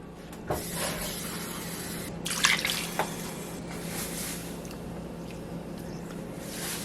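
Water poured from a container into a pan of homemade sauce with bay leaf, vinegar and oil, a steady splashing pour lasting several seconds with a brief clatter, fairly close.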